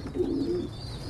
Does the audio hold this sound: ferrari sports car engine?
no